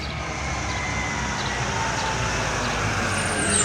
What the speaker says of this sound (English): there's a garbage truck passing.